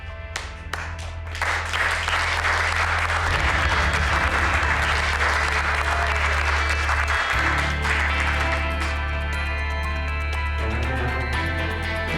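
A group of people bursts into applause in a Turkish drama scene, dense and lively clapping that builds after a few scattered claps and holds steady for several seconds, with music playing underneath.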